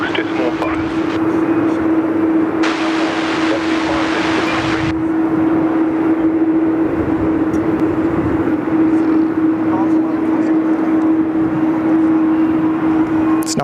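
A Jetstar Boeing 787 in silver and orange livery rumbles steadily at Sydney Airport, a constant loud engine drone with a strong steady hum, while people talk over it.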